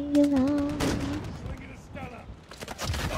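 Long-range sniper shots ring out in Call of Duty as a few sharp, loud cracks, one near the middle and a cluster toward the end, with a person talking over parts of the gunfire.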